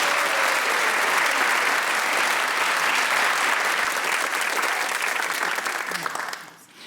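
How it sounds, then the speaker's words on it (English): Studio audience at the Radio Theatre applauding during a Brain of Britain quiz semi-final, a dense, steady round of clapping that holds loud throughout before tapering off at the end, with no talk over it. "you receive this positively saccharine round of applause"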